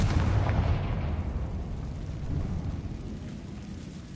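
Confringo blasting spell going off in the Hogwarts Legacy video game: a loud, close explosive boom that fades into a rumbling decay over several seconds.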